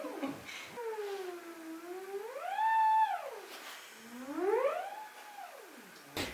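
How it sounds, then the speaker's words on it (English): A theremin plays smooth, gliding swoops that rise and fall in two wavering phrases, clear and fairly quiet with no talking. "Have you never seen a theremin?"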